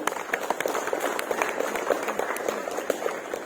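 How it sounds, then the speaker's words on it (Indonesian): Scattered clapping from participants gathered at an outdoor flag ceremony for National Awakening Day, a brisk, fairly even patter of hands at moderate distance, heard for a few seconds. "Saya ingin tepuk tangan buat kita semua yang ada di sini,"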